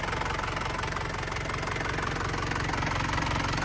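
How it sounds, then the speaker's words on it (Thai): A 1997 Isuzu Dragon Eye 2.8 SLX pickup's 2.8-litre turbo diesel engine idles steadily, a close, even low rumble with a faint knocking clatter that holds constant throughout, with no voices. "เครื่อง ดีเทล208 เทอร์โบนะครับ ไม่ไอไม่พ่นนะครับ"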